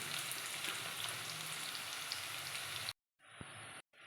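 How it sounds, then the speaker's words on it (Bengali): Onions frying in hot oil for a Kolkata-style egg biryani, a steady dense sizzle close by for about three seconds, then cutting out abruptly with brief faint bursts of sound after. "পেঁয়াজটা আমি লাল লাল করে ভেজে নেব"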